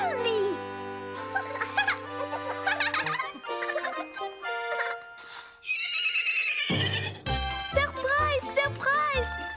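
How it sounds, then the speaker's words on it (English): A horse whinnies loudly amid a busy mix of jingling bells, clip-clopping, and children's voices at a cartoon birthday scene, with a bright, cartoon-like musical backdrop. "We have brought this lovely horse just for you."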